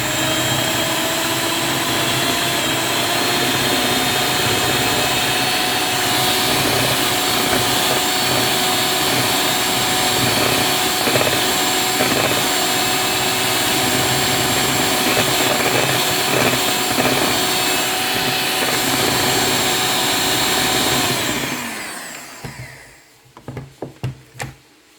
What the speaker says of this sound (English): 5 egg whites, and then I'm using my electric hand mixer. And so I'll beat this until this will become frothy or soft peak.